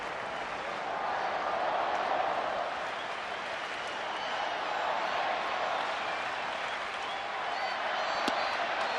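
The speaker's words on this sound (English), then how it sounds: "Crowd came back to life here in Anaheim after that Ohtani double." A large baseball crowd in an Anaheim stadium keeps up a steady, distant roar of cheering and applause throughout, a dense wash of noise with no single voice standing out.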